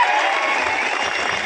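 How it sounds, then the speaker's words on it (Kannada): An audience at a farmers' association gathering claps loudly to welcome arriving guests, a dense, steady burst of applause with faint crowd murmur underneath. "ಜೋರಾದ ಚಪ್ಪಾಳೆ ಮೂಲಕ ಸ್ವಾಗತ ಮಾಡಿಕೊಡ್ರಿ"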